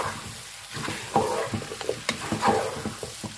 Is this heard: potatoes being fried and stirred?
yes